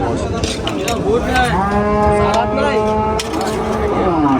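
A cow moos loudly and long at a cattle market, its drawn-out lowing rising and falling over a busy background of voices and crowd noise.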